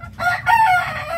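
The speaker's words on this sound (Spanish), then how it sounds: "los gallos que ellos me mandaron" A fighting gamefowl rooster from a Dominican game farm lets out a single loud, close crow, ringing and strained, with no talk over it.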